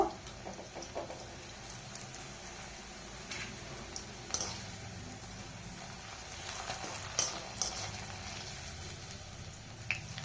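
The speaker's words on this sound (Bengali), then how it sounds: "ভেন্ডি আবারও ভেজে নিয়েছি, তুলে নেব।" Okra (bhindi) frying in hot oil until crisp gives a steady, soft sizzling crackle with scattered louder pops, heard close and alone without talk.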